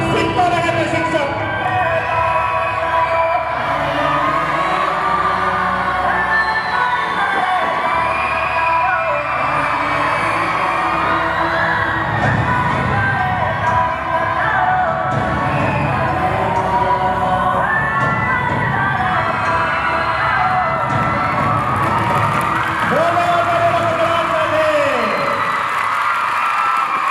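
A school audience at a Gurukul cultural program cheers, whoops and claps loudly in a sustained wash of crowd noise with children shouting, while an amplified voice and music carry over the top.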